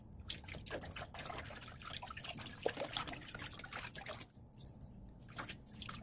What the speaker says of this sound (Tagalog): Ito na po ang ating pangalawang banlaw.